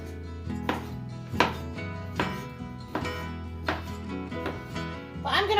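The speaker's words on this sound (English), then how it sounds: "I'm going to work on getting these ropes of smoked sausage cut up into bite-sized pieces" A knife chops ropes of smoked sausage into bite-sized pieces with sharp, evenly spaced cuts about once a second, close and distinct over a steady tonal background.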